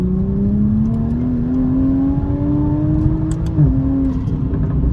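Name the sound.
Toyota Supra MK5 inline six engine accelerating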